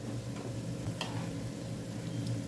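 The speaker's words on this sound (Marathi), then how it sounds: "दुसऱ्या बाजूने पण छान फ्राय झालेत." Corn cutlets frying over medium heat in a pan make a low, steady sizzle with a few soft ticks and clicks of the pan, quiet and without talk.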